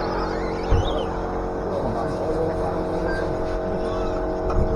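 Electric RC cars race around a club track at a Bury Metro RC summer series round, a continuous busy whine of several small motors mixing and passing, with a couple of brief knocks.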